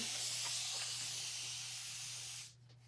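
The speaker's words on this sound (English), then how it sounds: "So I'm going to spray a little bit of water." A spray bottle misting water onto a Peanuts Snoopy wreath being cleaned, giving a steady hiss lasting over two seconds before cutting off, with a low hum underneath.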